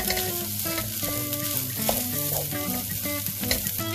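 Carrots stir-frying in a hot pan for crab fried rice give a steady, loud sizzle with a spatula scraping and clinking now and then, close by with no talk.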